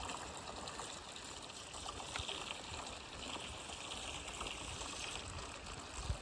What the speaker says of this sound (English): Fresh spring water.